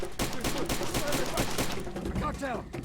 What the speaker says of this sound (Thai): ใครยิงกูเนี่ย